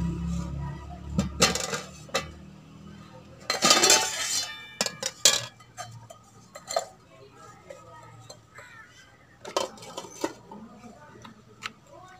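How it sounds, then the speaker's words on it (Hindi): A metal kadhai (wok) is set on a stove in a home kitchen. Several sharp metallic clanks and rattles are scattered between quieter pauses, with a voice speaking at times. "अब चूल्हे पे रखेंगे कढ़ाई"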